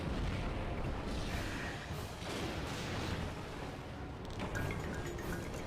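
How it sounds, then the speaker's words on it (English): Cannon fire in Monster Hunter 4 Ultimate during a breakable-weapons hunt, heard as a sustained, dense barrage of booming blasts and rumbling impacts that keeps a steady loudness for several seconds. "Give me the cannons."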